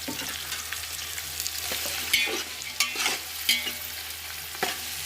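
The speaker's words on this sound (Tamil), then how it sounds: "அந்த வெங்காயத்தை சேர்த்துக்கலாம். இதை சேர்த்து நல்லா வதக்கிடலாம்." About a kilo of onions sizzles in a pan while a spoon stirs through them, a constant close frying hiss with several distinct scraping clacks spaced a second or so apart.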